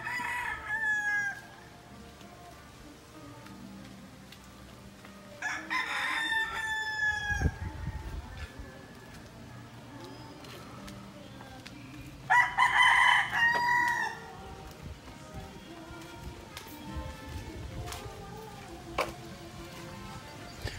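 Several roosters crow loudly at intervals in a Mangyan village in Talipanan, Mindoro, Philippines, one close and others farther off, with clucking and faint background sounds between calls.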